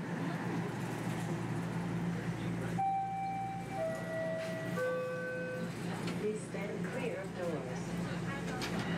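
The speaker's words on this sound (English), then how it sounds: "lucky enough to catch one of Toronto's newest trains" Interior of one of Toronto's newest subway trains, a steady rumbling ride noise with a rising series of whining electric motor tones as the train accelerates, and people talking under it.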